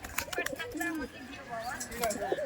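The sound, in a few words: pigeons cooing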